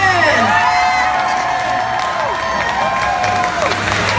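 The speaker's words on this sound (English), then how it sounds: "When I yell action, don't forget the thunderous applause for yours truly." A large crowd at Disney's Hollywood Studios cheers and claps in a steady roar on the final ride of The Great Movie Ride, with whoops and shouts rising over the applause throughout.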